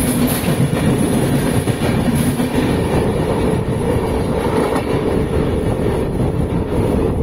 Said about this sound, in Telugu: నవజీవన్ ఎక్స్ప్రెస్ దాటేసిందండి మన సూపర్ ఫాస్ట్గా, రాకెట్ స్పీడ్లో.